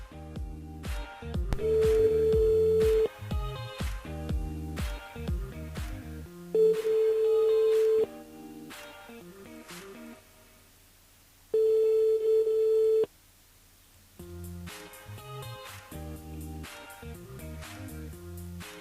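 A telephone line sounds repeated steady tone bursts separated by gaps during a live call on a French-language radio show, with music and sound fragments between the tones.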